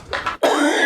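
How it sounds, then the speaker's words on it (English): A man coughs close to a podcast microphone, a short rough burst followed after a tiny pause by a longer, raspy, strained exhale. "I hear you coughing"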